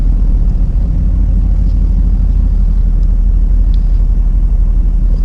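A Renntech-tuned Mercedes-AMG GT-S engine rumbles loud and steady while the car creeps into a space in a business visitors car park, a continuous deep drone with no voices over it.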